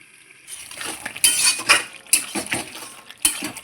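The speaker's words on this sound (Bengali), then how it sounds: "আমি আবারও ঢাকা চাপা দিয়ে দিচ্ছি" A metal lid settles onto a karai of simmering ridge gourd and potato vegetable curry, giving several sharp metallic clinks and clanks in an uneven rhythm, close by, with no talking.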